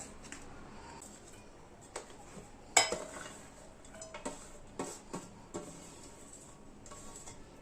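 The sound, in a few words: cutting paneer into small pieces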